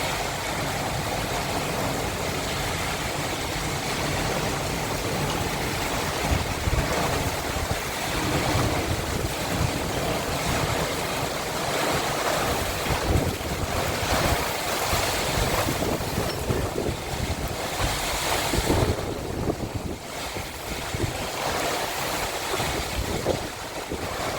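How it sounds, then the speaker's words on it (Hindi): Heavy rain pours during a lightning storm as a dense, constant roar of broadband noise with gusty swells, loud and close, with no voices. "बहुत तेज़ बारिश है।"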